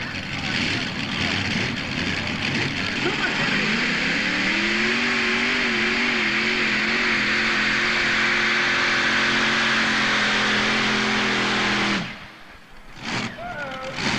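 A modified pulling tractor with a single tube Banner chassis at an NTPA pull in Inwood, Ontario, roars loud and sustained down the track, its engine pitch climbing and holding steady before cutting off abruptly near the end, with an announcer talking underneath.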